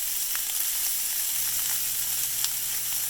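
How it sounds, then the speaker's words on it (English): Sausage and chopped green onion sizzle steadily as they brown together in a pan for Southern-style sausage muffins, a constant close frying hiss with occasional pops and no talking. "You're going to brown your sausage with your onion, and we're going to start with that first."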